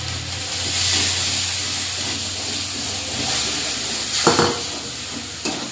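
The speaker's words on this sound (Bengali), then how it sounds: "আর দিয়ে দেবো পোস্ত, মশলাটা ভালো করে কষে নেব।" Spice paste with ground coriander and poppy seeds fries in oil for a vegetarian dish, giving a continuous close hiss and sizzle while being stirred, with a couple of sharper scraping knocks near the end.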